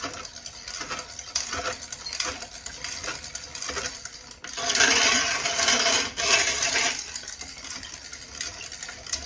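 A spoon stirs and scrapes homemade spaghetti sauce in a pot for canning, giving steady rhythmic swishing and scraping close up, growing louder and harsher partway through, with no talking.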